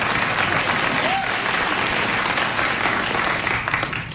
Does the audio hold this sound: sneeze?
no